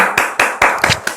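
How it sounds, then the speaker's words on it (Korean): Applause welcoming a guest, a high-school senior peer counselor, onto an online counseling show: a short burst of hand clapping with several distinct loud claps close by, no talking. "박수!"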